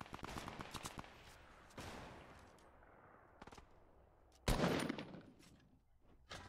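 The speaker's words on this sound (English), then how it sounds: "Oh, he's getting shot at." Gunfire in Fortnite, bursts of rapid shots and sharp single cracks, one louder close blast midway, the rest fainter and at a distance, with quiet gaps between volleys.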